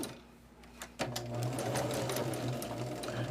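A sewing machine stitches quilt block pieces. A faint hum starts it, then from about a second in the motor whirs steadily and loudly close by with a fast, even rattle, no voices.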